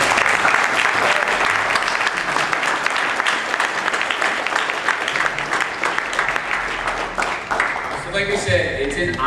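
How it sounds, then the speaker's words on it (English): An audience at a comic con panel applauds a group of students, dense sustained clapping that fills the room before tapering off near the end. "quick round of applause for these students"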